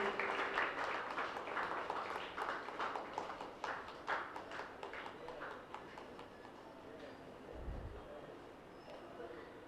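A crowd at a Catholic association's 13th anniversary celebration at a church claps steadily, a dense patter of many hands that slowly thins out, with a low thump near the end.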